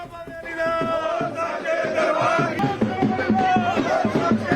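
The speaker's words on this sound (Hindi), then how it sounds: "हामियों की भारी भीड़ उमड़ी।" A large crowd of supporters gathered at an election nomination filing in Jammu, with loud sustained cheering and slogan chanting that continues throughout.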